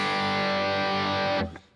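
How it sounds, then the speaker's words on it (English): A distorted electric guitar tone from a Kemper Player, set to a Bogus Cats distortion profile by Bert Mullendick, rings as one thick sustained chord, then is cut off abruptly and decays within a couple of seconds. "this is like a Bogus Cats distortion by Bert Mullendick"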